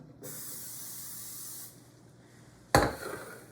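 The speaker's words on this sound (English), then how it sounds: "grab some non-stick cooking spray," A single steady spray of non-stick cooking spray hisses for about a second and a half into an air fryer drawer, then stops; a sharp clunk follows near the end.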